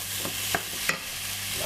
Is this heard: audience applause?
no